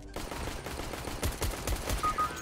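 Gunfire in a shooter video game comes as a rapid string of distant, fairly quiet shots, an irregular rattling burst with no talk over it.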